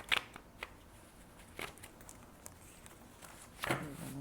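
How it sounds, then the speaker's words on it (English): Tarot cards shuffled by hand, heard as a few short, faint papery bursts spaced apart, with quiet background hiss between them. "I'm gonna shuffle, please."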